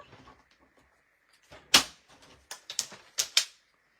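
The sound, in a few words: paper being chopped with a cutter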